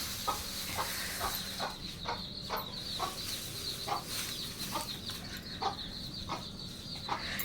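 Hens and chicks on a farm give repeated soft clucks and peeps at an uneven rhythm, fairly close but quiet, over a low steady background hiss.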